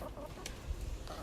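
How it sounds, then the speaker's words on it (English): Backyard chickens cluck in a garden, a few close, short clucks over low scuffling noise, with no talking. "That's normal chicken behavior"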